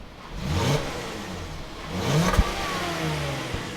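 A 2017 Volkswagen Atlas SEL Premium 4Motion with a 3.6-liter V6 and 8-speed automatic accelerates with a steady mid-pitched engine hum that swells, eases and rises again, heard alone without talk.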